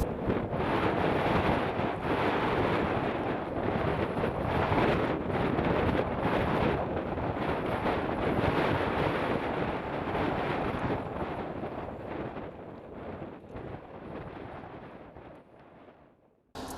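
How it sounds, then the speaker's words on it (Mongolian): Strong wind blowing in open Gobi desert country, a loud rushing roar buffeting the microphone for most of the stretch, then easing toward the end. "Энд үнэхээр их салхитай байна."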